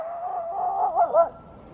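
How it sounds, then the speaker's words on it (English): A dog howls in one sustained, wavering cry that rises into a couple of louder yips near the end, close and alone, after sniffing animal tracks on a walk. "It's the only thing that makes him howl and bark like this."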